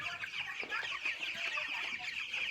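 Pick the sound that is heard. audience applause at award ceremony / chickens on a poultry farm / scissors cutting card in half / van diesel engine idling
chickens on a poultry farm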